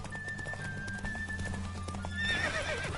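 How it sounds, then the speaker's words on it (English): Galloping horse in the video game The Witcher, with rhythmic hoofbeats pounding close and loud under a thin tonal whistle, then a whinny rising near the end. "Don't spare the horse!"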